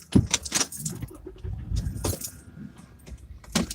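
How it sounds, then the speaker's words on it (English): Keys jangle as a car is started, with a short clatter near the start and a rising burst of engine and handling noise around two seconds in, followed by a quieter rumble and a final rattle. "I suppose I should start the car, huh?"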